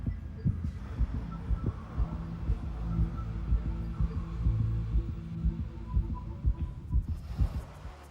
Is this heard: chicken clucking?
no